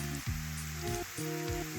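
Potatoes with porcini mushrooms frying in a pan, a soft, continuous sizzle and crackle at close range over a steady background hum with some recurring tonal sweeps.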